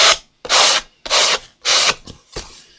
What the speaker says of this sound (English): So I just simply sand against the edge of this.